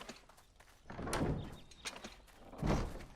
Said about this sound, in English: now we can open it and close it as we please